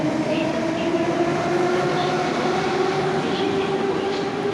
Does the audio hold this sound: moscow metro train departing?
yes